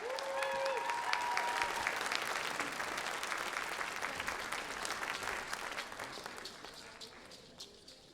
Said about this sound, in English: give them a big round of applause, you guys